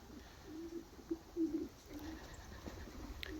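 Young racing homer pigeons cooing softly in a loft, a few low murmuring coos clustered around the middle with faint background noise.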